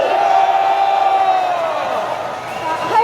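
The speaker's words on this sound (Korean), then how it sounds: "이 아이에게 박수를 보내주십시오, 여러분" A large patriotic rally crowd, flag-waving protesters gathered in the streets of South Korea, cheers and shouts in a sustained loud roar, with a whistle-like tone riding over the mass of voices.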